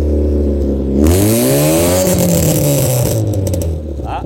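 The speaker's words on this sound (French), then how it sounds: "Donc là, on va faire écouter l'échappement" Honda Civic EC9 exhaust revved hard up close: a loud engine note climbs sharply, holds a raspy high rev, then eases back down near the end.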